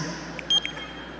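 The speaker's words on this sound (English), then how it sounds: "Did everybody hear that beep?" A graduation pass scanner at a Georgia Tech commencement gives a single short electronic beep, bright and brief, against a quiet hall background with faint hum.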